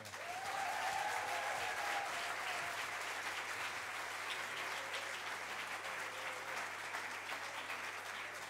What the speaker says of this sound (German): bitte nochmal einen riesigen, riesigen Applaus